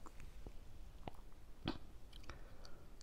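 Close, quiet chewing of crunchy onions with soft crunches and occasional sharper bites, recorded near the mouth with no talking.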